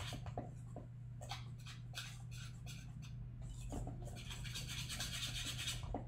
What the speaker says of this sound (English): I'm going to just use a simple whisk just to get the cinnamon mixed in with the almond flour